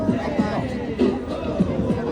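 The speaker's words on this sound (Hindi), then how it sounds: "कितनी ज़्यादा क्राउड है।" A busy weekend crowd of people taking pictures at Dotonbori in Osaka, a dense murmur of many voices with nearby chatter rising and falling steadily throughout.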